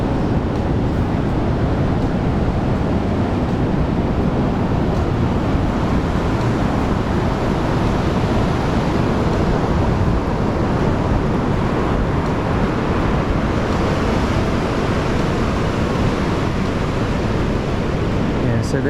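Rough sea surf rolls in at Kata Beach, Phuket, as a constant broadband roar of breaking waves mixed with gusty wind buffeting the microphone, loud and unbroken throughout.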